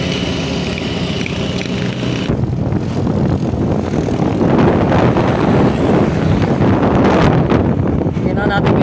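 A fuel-injected Honda Click 125i scooter with a check-engine fault and near-overheating engine revs loudly in a sustained, roaring drone that swells and holds. A voice may be talking underneath.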